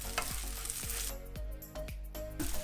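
Fish balls sizzle steadily in a pan, with several distinct scraping stirs of a utensil breaking through the frying hiss, close and fairly quiet.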